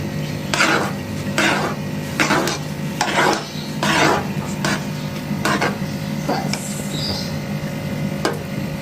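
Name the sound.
stirring rice kheer in a pot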